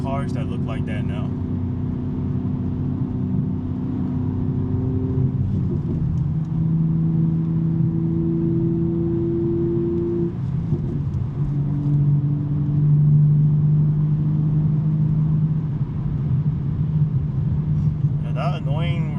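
BMW M3 with a 6-speed manual gearbox on a Sunday morning drive, its engine and exhaust droning steadily from inside the cabin, pitch rising and shifting as gears change, with someone talking over it.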